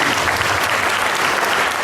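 Audience at a concluding ceremony clapping steadily and loudly throughout, a dense continuous patter of many hands with no speech over it.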